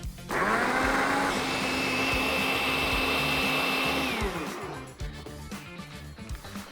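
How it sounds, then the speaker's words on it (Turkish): A blender whirs steadily for about four seconds, blending lemon juice, salt and egg yolk for a soufflé, then winds down into scattered clatter and handling noises. "Ve blender."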